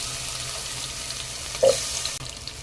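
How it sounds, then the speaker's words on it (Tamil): Potato pieces going into hot oil, a continuous close sizzle with a brief louder burst midway as pieces drop in, then a sudden cut, with no speech. "உருளைக்கிழங்கு கொஞ்சம் பெருசு பெருசாக தாங்க கட் பண்ணியிருக்கேன் ஸோ உருளைக்கிழங்கு ஆட் பண்ணிக்கலாம்"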